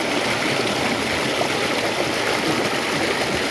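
A river in St Vincent and the Grenadines rushes and burbles in a steady, loud, even wash of flowing water, with no voices over it.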